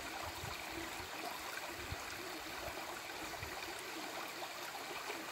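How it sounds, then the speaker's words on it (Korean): Water poured onto a sports towel outdoors, a soft continuous trickling and splashing stream, steady and fairly close, with no voices. "이렇게 물을 적칩니다."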